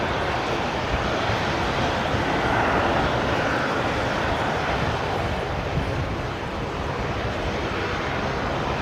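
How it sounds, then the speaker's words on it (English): A Qantas airliner in Retro Route number 2 livery departs from Brisbane Airport, its engines a loud, continuous broadband roar that holds steady and swells slightly before easing, with no voices. "the Qantas Retro Route number 2, is heading out for a departure on 19 left."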